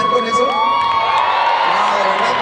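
Live audience at a Las Vegas-themed comedy show cheering and shouting loudly, a dense continuous roar of crowd voices with whoops rising over it throughout.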